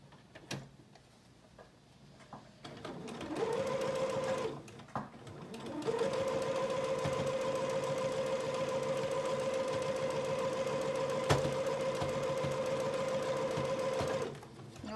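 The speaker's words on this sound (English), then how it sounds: "we're just going to sew over this again to hold our gathers in place" A sewing machine runs a line of stitching over gathered fabric on a child's apron, starting with a short burst, pausing, then humming steadily for several seconds before stopping, close and fairly quiet.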